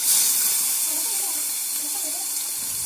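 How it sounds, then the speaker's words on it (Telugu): Steady bright sizzle of onions frying in hot oil with cinnamon, cloves and cardamom for a potato and chickpea curry, a continuous close hiss with no talk over it. "కొంచెం వేగాక ఉల్లిపాయలు వేద్దాం."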